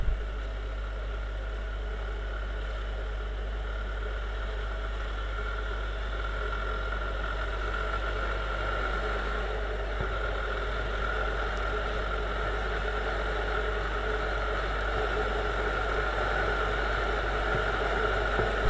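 Viper 200 motorcycle engine under way on a village road, a steady, loud droning hum with a buzzing mid-range note and wind rumble, holding constant for the whole stretch with no talking.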